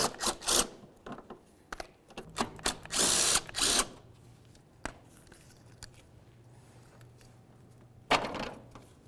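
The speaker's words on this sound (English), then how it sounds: "we can remove all of our 10mm headed nuts" Power drill spinning off 10mm nuts from the bumper of a 2000-2005 Buick LeSabre: short whirring bursts, one longer run in the middle, clicks and handling noise between, close by and without speech.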